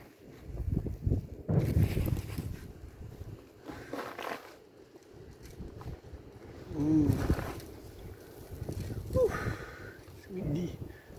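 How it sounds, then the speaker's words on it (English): Gusts of wind buffet the microphone in loud, uneven rushes, rising and falling over several seconds outdoors, with brief voices in between. "Windy."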